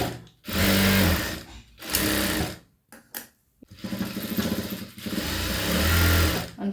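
A sewing machine stitches a blouse side seam with a quarter-inch seam allowance, its motor whirring in loud close bursts that start, stop briefly and resume in several runs.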